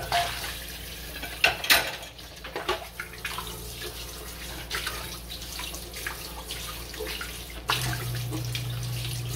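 A plate is rinsed under running tap water at a kitchen sink, with a steady splashing stream, occasional clinks and knocks of dishware, and shifting water sounds nearby.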